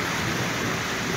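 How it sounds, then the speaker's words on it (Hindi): Heavy stormy rain pours steadily in Shahkot after snowfall and hail, a dense continuous wash of downpour close by with no voices. "अभी भी काफ़ी तेज़ बारिश हो रही है।"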